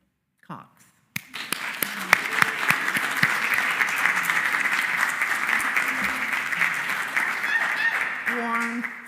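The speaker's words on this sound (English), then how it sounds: "I want us all to give a big applaud to Warren" Audience at a Unitarian Universalist Sunday church service applauding Warren Cox: loud, sustained clapping from a full room that starts abruptly after a brief sound and carries on steadily for several seconds.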